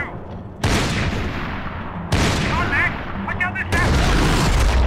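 Gunfire in Max Payne 3 gameplay: bursts of loud, close shots and booming blasts erupt in several volleys with rattling echoes, while a voice talks over the action.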